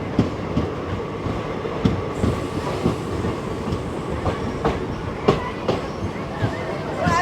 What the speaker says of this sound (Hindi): वही डीजल लोको आगे से पीछे आता है